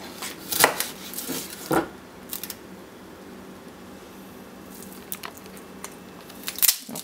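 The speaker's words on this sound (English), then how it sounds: "quickly start chopping some onions" A knife chopping onions on a cutting board in a home kitchen, a few sharp irregular chops and crunches, close and moderately loud over a quiet background, no talking.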